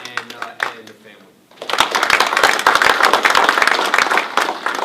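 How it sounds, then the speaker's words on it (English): At an Army retirement ceremony, a voice talks briefly before a roomful of people bursts into dense, sustained clapping that holds loud and steady through the rest. "how about a round of applause for Catherine"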